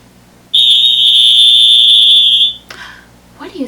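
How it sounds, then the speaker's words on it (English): A whistle blows one loud, steady, shrill tone for about two seconds, close and clean, followed by faint handling noises. "That was the whistle"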